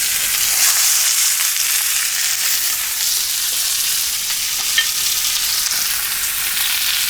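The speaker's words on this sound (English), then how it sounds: "Get that nice sizzle." Meat sears in a hot cast iron pan with a loud, steady hiss and crackle of fat, close and continuous with no voices.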